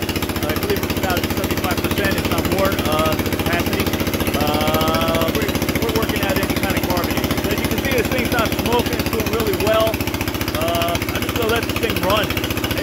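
An Onan 3.0 DJA diesel generator runs under load with a loud, steady, rapid chugging drone, while someone talks close by over the engine.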